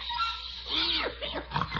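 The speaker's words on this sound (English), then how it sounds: "Well, Mr. Gildersleeve, is that a pig, Mr. Gildersleeve?" A pig oinks and squeals close by in a 1945 radio comedy scene, several quick grunting snorts in a short run, standing clear against a quiet background.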